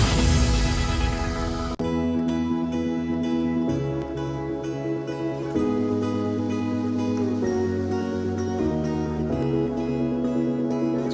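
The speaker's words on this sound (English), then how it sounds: "So the natural ambience with the reverse note, the piano," A calm music breakdown: natural ambience swells into a reverse note, then soft piano and sustained chords enter, layered and steady, with no voices.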